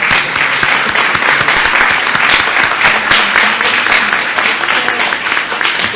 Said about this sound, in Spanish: un fuerte aplauso por este primer día de trabajo